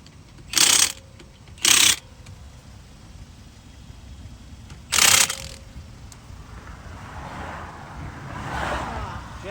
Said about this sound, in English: You always want to start your lugs, studs, give them a few turns.